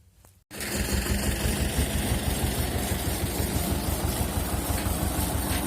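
A T-16 tractor engine working with a Japanese rotary tiller starts abruptly after a brief quiet moment, then holds a loud, steady rumbling drone with constant vibration.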